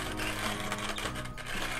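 A household coffee mill grinds coffee beans in a steady, dense mechanical whir with a faint rattle, running continuously and loud throughout, with no talk over it.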